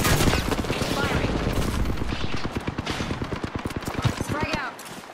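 Rapid automatic gunfire from the Apex Legends video game, a fast run of sharp shots that sounds close and loud and ends abruptly, with a player's voice faintly heard over the shooting.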